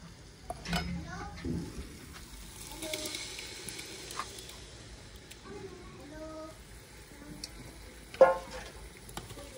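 Cooked vegetables frying and being stirred into masala oil for homemade pav bhaji, giving a soft steady sizzle with scraping stirring strokes and a sharp utensil clink near the end.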